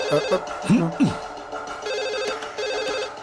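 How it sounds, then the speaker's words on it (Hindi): A telephone rings in an office-like scene, its repeating electronic ring pattern steady and fairly close, with a couple of short voice fragments and a sweeping tone near the start. "फोन।"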